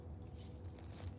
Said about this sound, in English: Wanna try those keys?